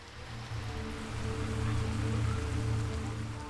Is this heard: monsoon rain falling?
yes